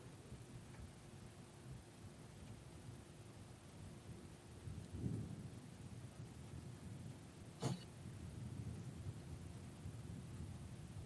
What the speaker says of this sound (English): As a thunder rages from the outside